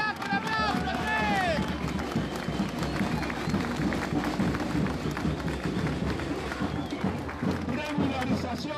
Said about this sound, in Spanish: ¡Vamos, carajo, un aplauso!